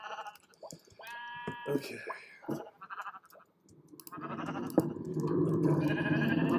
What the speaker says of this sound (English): So, these are the sheep.